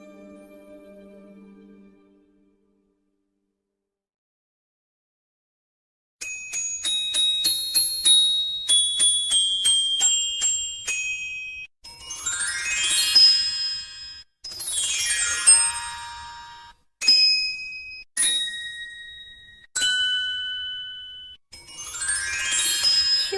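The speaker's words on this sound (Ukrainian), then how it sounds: "Металофон." After a soft low tone and a pause, bright metallic bars are struck in rising and falling runs, ringing clearly with sustained shimmer.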